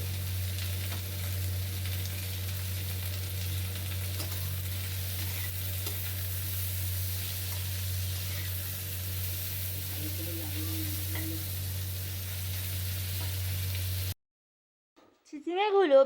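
Spiced mixture with Kashmiri chili powder stirred in a frying pan for moong dal with snake gourd, a steady sizzle with a low hum over about fourteen seconds, then a brief voice at the end.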